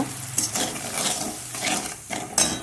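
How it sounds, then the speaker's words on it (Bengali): Spice paste hits hot oil in a pan with a loud sizzle, followed by scraping stirs and occasional utensil clanks against the metal, with no talking. "এই পেস্টটাকে আমি এখন তেলে ঢেলে দেবো।"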